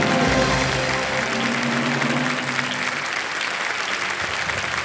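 Studio audience of a televised quiz show breaks into loud, sustained applause, dense clapping that holds steady and tapers slightly toward the end.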